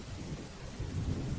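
Steady rain with a low rolling rumble of thunder swelling toward the end, a dense, continuous wash with no voices.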